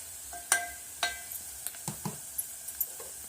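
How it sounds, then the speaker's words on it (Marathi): A spoon scrapes and taps around a pan while turmeric, salt and red chili powder are stirred in, giving a series of sharp, evenly spaced clinks over a faint background sizzle. "आता हे सर्व आपण मिक्स करूया।"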